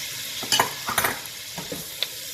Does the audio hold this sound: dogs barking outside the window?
no